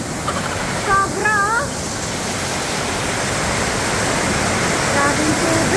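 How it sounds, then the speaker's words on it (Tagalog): Heavy rain pours down in a steady, dense wash, with rushing flood water running beneath it throughout. A brief chirp rises near the start, and the roar stays loud and even from start to finish with no talking. "Grabe ng tubig. Ay, hindi nyo po ang ulan. Lakas, baha."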